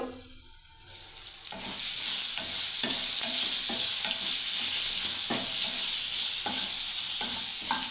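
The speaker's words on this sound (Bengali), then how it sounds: "এদিকে পটলটা আমার মনে হচ্ছে ভাজা হয়ে গেল।" Pointed gourd (potol) fries in a pan, a bright steady sizzle that swells in after a quiet second and continues, with soft periodic scrapes of stirring through it.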